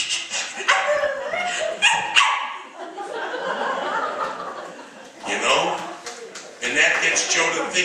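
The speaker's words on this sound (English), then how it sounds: "wouldn't it be good to hear that little dog bark again?" A little black Cocker Spaniel barks and yips in short, repeated bursts from an old radio Christmas broadcast, with people talking and chuckling around the barks.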